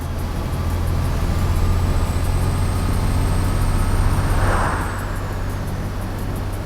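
Bus engine in OMSI 2 driving up to speed, a deep steady low drone with a rising whine that builds and then eases near the end, loud and alone without talk.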